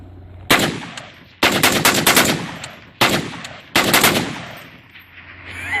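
A 7.5 inch AR10 pistol, DPMS pattern, bump fired outdoors in four loud rapid bursts of shots with short pauses between them, close and sharp.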